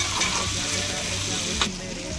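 Tamarind slices sizzle in a hot frying pan while a Konkani-style sukha kolim is cooked, a steady, close, dense frying hiss with a small clink near the end and no voices.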